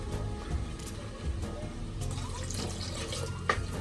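Water is poured into a crab gravy masala in a home kitchen, giving a steady trickling, splashing pour with soft liquid bubbling that runs throughout, close and moderately loud with no talk.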